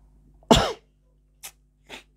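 A single loud, harsh cough, followed by two softer, shorter coughs spaced apart, close by with a quiet background hum.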